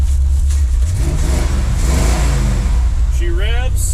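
An old 1947 Chevy engine, sitting unused for years, revs loudly in a steady rumbling run, and a voice speaks briefly near the end.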